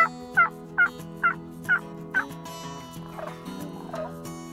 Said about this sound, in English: I did hear that. What was it? Like a turkey?